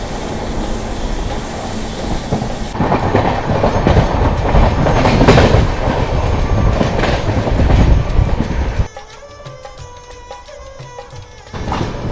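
Jaipur–Delhi Double Decker Express train rolling on the rails, a loud close rumble with clattering wheels that swells in the middle, then drops to a quieter interior hum with faint rhythmic clicks.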